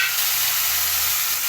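Tomato pieces fry in a hot pan with a dense, steady sizzle and hiss, loud and close, with no voices over it.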